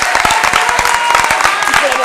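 Audience clapping at a Paris improv theatre festival, a brief burst of dense applause from a crowd greeting the musician, steady and fairly loud throughout with no voices standing out.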